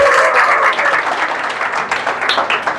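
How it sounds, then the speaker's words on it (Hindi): An audience at a spiritual talk giving Sonu Shah a hearty round of applause, loud sustained clapping from many hands filling the whole clip without voices over it. "तो सोनू शाह के लिए जोरदार हाथों से तालियों के सेवा।"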